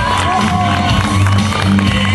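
Crowd at a strongman awards ceremony in Pazardzhik cheering and clapping, a dense, loud, continuous roar of voices with shouts throughout, an announcer's voice also present.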